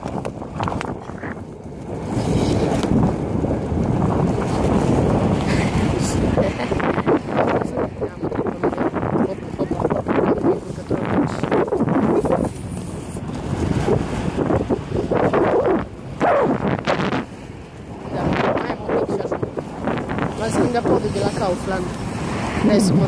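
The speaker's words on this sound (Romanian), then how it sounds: "Dar iară se aude vântul." Wind buffeting a handheld microphone while someone walks outdoors near a mall, producing loud, uneven low rumbling gusts that surge and drop across the whole stretch, with faint background sounds underneath.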